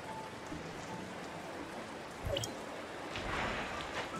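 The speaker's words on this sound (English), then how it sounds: "It's raining." Rain falling in the game Tower of Fantasy, a soft, steady hiss of drops, faint and continuous, with a brief thud and a swell of splashy noise partway through.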